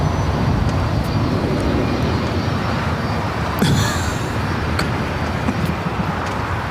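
A Spirit Airlines Airbus A320 departing Los Angeles International Airport makes a continuous loud jet roar, with a brief sharper sweep midway and steady airport and traffic background, and no talking.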